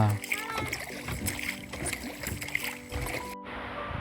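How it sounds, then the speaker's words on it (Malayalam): A boat moves through water in the Gavi forest, Idukki, with a steady engine drone and splashing, while people talk over it. "അങ്ങനെ നമ്മൾ ബോട്ട് യാത്ര അവസാനിച്ചിരിക്കുകയാണ്"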